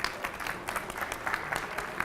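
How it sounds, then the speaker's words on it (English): An audience at a South African business talk gives a warm round of applause, a dense, steady patter of many hands clapping at moderate distance for a couple of seconds. "Can we give a warm South African hand of applause?"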